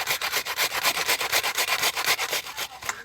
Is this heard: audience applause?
no